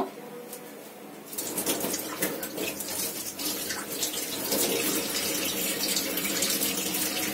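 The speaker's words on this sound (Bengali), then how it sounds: "আমি একটু ধুয়ে নিচ্ছি" Tap water running in a kitchen sink for washing, starting after a short quiet lead-in and then a steady close gushing splash that continues to the end.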